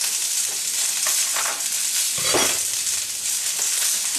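Vegetables sizzling in hot olive oil in a pan just above medium heat, a steady close hiss with a brief louder burst as they settle, no voices.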